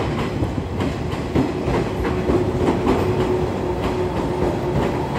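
A local electric train bound for Sendai rolls into a station on the Kagoshima Main Line with a low rumble and rhythmic clatter of wheels over rail joints, a faint steady whine above.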